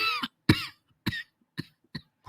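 Coughing from a woman in a movie scene: five or six separate harsh coughs spaced about half a second apart, loud and close, with no talk around them.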